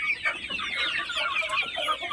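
Chickens clucking busily in a 600-square-foot poultry farm, many overlapping hen calls and short squawks filling the shed at close range, with no talking.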